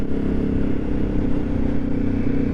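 An Aprilia Shiver 750 motorcycle engine runs steadily with a throaty, low rumble and constant idle-like throb, close and loud, without talk.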